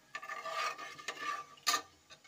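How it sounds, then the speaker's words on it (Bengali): Whole dried chillies fry in a pan, making a soft crackling sizzle broken by several scraping stirs and clinks of a utensil against the pan, all fairly close and moderately quiet. "আর গোটা লঙ্কা। এগুলোকে আমরা ভেজে নেব ভালো করে।"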